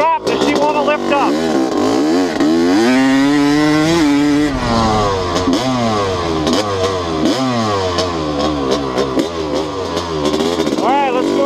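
A Honda CR250 two-stroke dirt bike engine revs loud and close, pitch sweeping up and down through repeated throttle blips, with a person talking over it.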